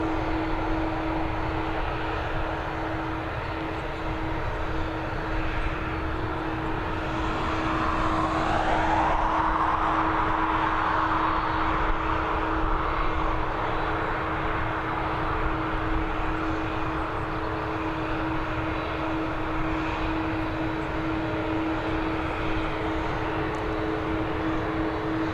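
An ATR 72-600 turboprop airliner on final approach to Dublin Airport makes a steady engine drone with a constant low propeller hum, swelling a little as it passes mid-way, with no voices.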